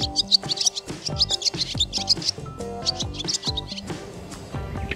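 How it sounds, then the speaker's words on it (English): Rapid high twittering from a swallow, chattering calls repeated in quick clusters over a busy background of music. "Swallow."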